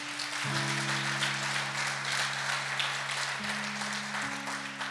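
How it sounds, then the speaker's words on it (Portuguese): A church congregation applauding during a sermon, a steady wash of clapping held at moderate level, with sustained tonal background music or organ notes underneath. "Aplauda o Senhor no seu lugar aí"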